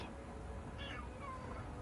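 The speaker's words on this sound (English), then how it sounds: "Kitty's meowing." A pet cat meows softly indoors, one or two drawn-out rising calls over a low room hum, fairly faint and alone.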